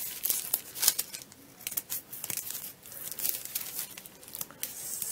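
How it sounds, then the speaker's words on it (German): Scissors cutting curves into thin sandwich paper, a close, quiet run of crisp snips and papery crinkling and rustling with uneven rhythm, no talking. "Auf beiden Seiten schneiden wir jetzt richtig schöne Rundungen in das Papier."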